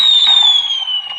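Fireworks going off in Minecraft Pocket Edition, a loud, steady fizzing whistle with a slowly falling tone and small crackles, with no talking.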